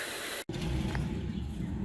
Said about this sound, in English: spray under there and get it a little cleaner